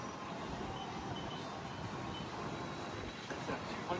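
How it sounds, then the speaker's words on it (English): A 2006 Haas TL-3 CNC toolroom lathe runs its spindle in a test, giving a steady, even mechanical whir and rush with no change in level. "Go ahead and do a spindle test."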